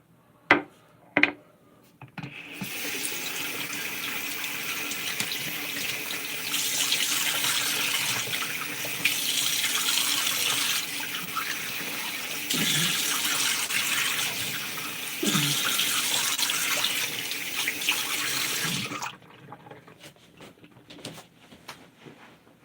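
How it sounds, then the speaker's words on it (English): Tap water running steadily into a sink for rinsing, a continuous close splashing rush lasting most of the stretch, with a few knocks before it starts and after it stops. "Rinse off here."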